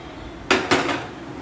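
Two sharp metallic clanks in quick succession as a metal cooking pot is set down on a stove, ringing briefly before fading.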